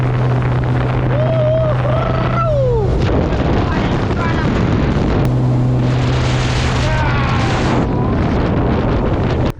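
A loud, steady engine roar with wind buffeting, like a jet boat running on water; voices talk briefly over it partway through.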